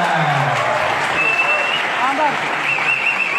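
Audience applause at an Islamic and creative competition event with Persib football legends present, a dense steady wash of clapping filling the room, with voices and a few whistles or cheers mixed in.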